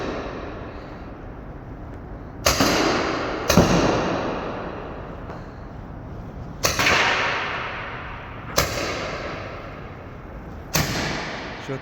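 Gunfire in the Free Fire mobile game comes as about six sharp, loud shots at irregular intervals, each one a sudden crack trailing into a long fading echo.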